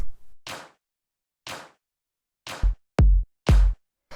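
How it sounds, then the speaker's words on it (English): Layered live hand clap samples in a textured house drum pattern: bright, snappy claps spaced about a second apart, with the last few stacked over a deeper punchy thump, all close and dry with no voices. "And also some live claps."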